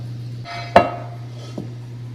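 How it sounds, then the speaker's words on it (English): A cast iron skillet is lifted out of the oven, giving one sharp metallic clank followed by a softer knock, close by over a steady low oven hum. "Now let's take the skillet out of the oven and put a little bit of butter in it and then some oil."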